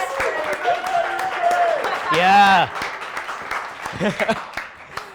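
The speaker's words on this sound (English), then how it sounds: "Let's give him a round of applause" Studio audience applauding a guest on his 21st birthday at the close of a Portsmouth show, clapping mixed with loud whoops and cheering voices, with people talking over it throughout.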